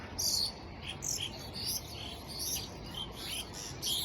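A myna bird tangled in kite string calls repeatedly, sharp bright chirps and squawks coming in quick bursts, fairly close over a faint steady background hum.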